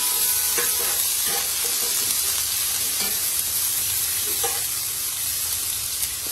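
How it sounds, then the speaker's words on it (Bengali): Onions frying in a pan for a hilsa fish curry, a constant hissing sizzle with intermittent scraping stirs, close and steady throughout. "ইলিশ মাছের জন্য আমি পেঁয়াজগুলোকে ভালো করে ভেজে নিচ্ছি"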